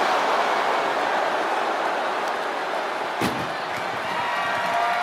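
A single sharp ambulance door slam in WWE 2K25 cuts through a loud, steady roaring background noise, with no one speaking.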